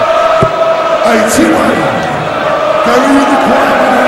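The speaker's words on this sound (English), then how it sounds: "Crowd loving it here at Wembley" A stadium crowd at a Wembley darts match roars and chants in a continuous, dense wash of voices, steady and loud, with individual shouts rising out of the mass.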